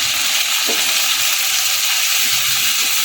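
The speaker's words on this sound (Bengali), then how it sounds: "মিনিট দুই তিনের সময় ধরে মশলাটাকে একটু ভেজে নেবো" Spice paste for Pahari dum aloo fries in a pan, a steady loud sizzle with constant hiss and faint stirring scrapes, no voices.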